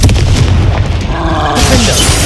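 Bombarda and Confringo blasts go off in the Hogwarts Legacy video game as loud, booming explosions with rumbling low end, followed by crackling debris and a fading roar.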